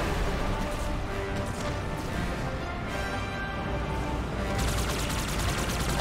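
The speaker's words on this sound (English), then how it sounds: "I like how the Wraiths are like actually shooting at us like a grenade." Wraith mortar fire in the Halo 2 campaign, heard as a dense, continuous barrage of heavy blasts and explosive rumble that fills the clip without letting up.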